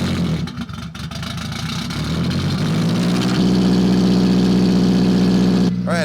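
An 8th-generation Honda Civic with a turbo build starts and runs in a garage, rough uneven cranking giving way to a loud steady idle with a strong low hum that drops off abruptly near the end.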